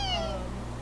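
A kitten in a video game gives a single clear, close meow with a falling pitch, standing alone with no talk.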